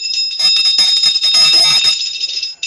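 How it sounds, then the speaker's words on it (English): A hand bell rings loudly and rapidly for a couple of seconds, bright metallic clanging close by, then stops. "I will start the meeting in the traditional way by ringing, in this case, a bell"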